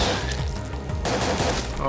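Rapid video game gunfire in Parasite Eve 2 on the PS1, a dense burst of shots fired at creatures, loud and continuous through the short stretch.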